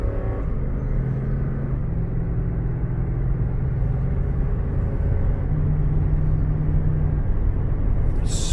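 Lexus GX460 SUV engine accelerating at half throttle, a steady low rumble with a gently climbing tone heard from inside the cabin, smooth and continuous throughout.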